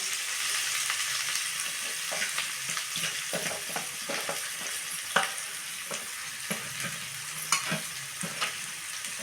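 Onions and green chillies fry in hot oil in a pan, giving a steady close sizzle broken by repeated spatula stirring scrapes, with no one talking.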